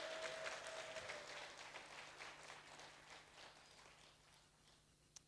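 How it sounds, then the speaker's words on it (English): A crowd at a book launch applauds with dense, steady clapping that gradually thins and fades away over several seconds. "Can we give them a round of applause again?"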